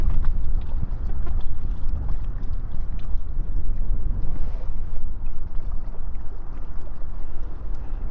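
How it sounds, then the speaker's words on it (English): Bitter cold wind gusts steadily at a fishing lake, a loud continuous low rumble of wind buffeting the microphone throughout, with no talk. "And that wind's picked up a bit. Real bitter wind that is."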